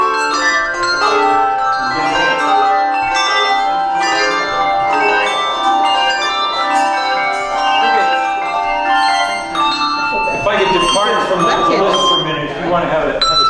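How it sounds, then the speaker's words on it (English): Handbells ring out in a steady stream of bright, overlapping tones, then the ringing is quickly damped into short, muffled notes near the end. "Ring it and touch it to you real fast."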